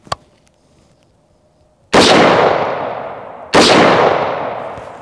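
A 7.62x51mm (.308) rifle fired at body armour, two loud close shots about a second and a half apart, each with a long decaying boom, after a small click and near silence.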